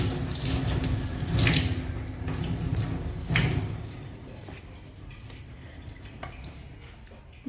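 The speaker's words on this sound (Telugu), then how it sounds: "ట్యాప్ ఆన్ చేస్తే తడపండి బాగా." Water runs from a kitchen tap onto a sponge scrubber at a sink, a strong splashing stream for the first few seconds that softens to a quieter trickle, close by.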